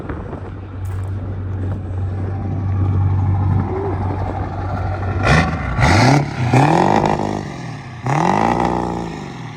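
Ford Powerstroke truck engine at a low steady idle, then revved hard in three loud, close bursts, each climbing and falling quickly.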